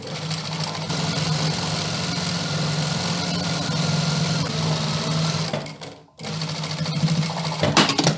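An overlock sewing machine runs steadily while stitching a narrow hem on a bias-cut dress piece, a loud close whirring hum that pauses briefly near the end before starting up again.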